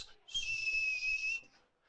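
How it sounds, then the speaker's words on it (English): A thistle whistle gives one sustained, bright, shrill note of about a second, loud and close, with a faint breathy rumble underneath. "It's called a thistle whistle."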